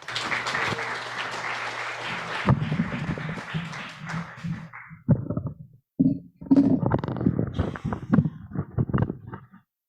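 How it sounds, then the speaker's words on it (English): An audience at the closing session of the 22nd BIEN congress applauds a speaker being welcomed. Dense, full applause fills the first few seconds, then thins into scattered claps and knocking sounds before falling silent. "Please welcome him with a big round of applause."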